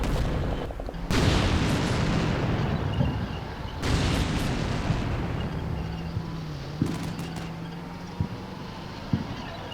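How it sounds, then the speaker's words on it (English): Booming artillery and tank cannon fire in the wargame Combat Mission Black Sea, with heavy blasts near the start and around four seconds, then a rumbling battlefield bed with scattered sharper shots. "they're still firing at targets over on our left here"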